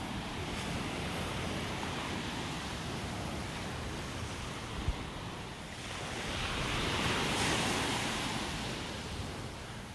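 Ocean surf on a mile-long beach in North Naples, Florida, a steady broad wash of waves with wind, swelling slightly midway and continuing without talk.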